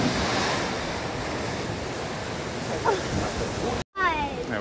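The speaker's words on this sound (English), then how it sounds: "And the waves keep pushing all the water out." Ocean surf roars continuously against rocks with heavy wind noise buffeting the microphone, the water surging and rushing throughout, briefly cutting out near the end, on the Western Australian coast between Carnarvon and Monkey Mia.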